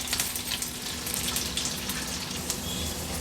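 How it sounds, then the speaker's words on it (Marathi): Garlic and green chillies fry in oil with a continuous, fairly soft hiss and crackle throughout, heard alone without speech. "आता लसूण आणि मिरची तेलावर आपल्याला छान परतून घ्यायची आहे"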